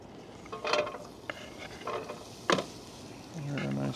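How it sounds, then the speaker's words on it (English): Vegetables sizzle in avocado oil in a hot pan, a soft steady frying hiss with a few utensil clinks and stirring scrapes, heard close. "Here, a nice sizzle."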